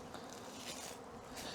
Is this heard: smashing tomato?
no